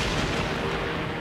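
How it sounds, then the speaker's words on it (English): A huge volcanic eruption explosion: a loud, dense roaring blast that fills the whole moment without letup, with no voices. "A tremendous bright flash and this huge explosion."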